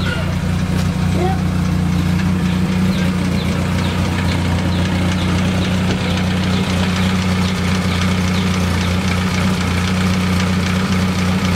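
A 26 horsepower engine idles steadily with a loud, even low throb and faint knocking, running continuously and close by while people talk over it.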